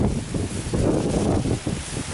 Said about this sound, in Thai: ลมแรงมากครับ เพราะว่าเป็น คุ้งน้ำนะครับ